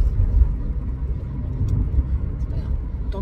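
Car travelling on a highway, heard from inside as a steady, fairly loud low rumble of road and engine noise that continues without a break.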